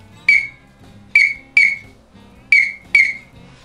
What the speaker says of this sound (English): This is a Primos over-under whistle